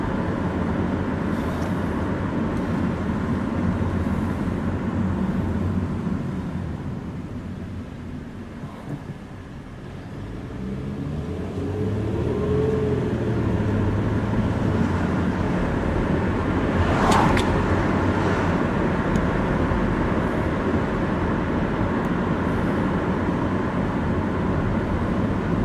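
A 2003 Toyota Camry LE V6 on a test drive, heard from inside as a steady, loud road and engine drone that dips briefly and then swells again, with no talking.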